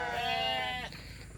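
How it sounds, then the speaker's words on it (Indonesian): A single goat bleats close by on a small livestock farm, one loud wavering cry lasting under a second before fading into quiet background. "ini kambing kita"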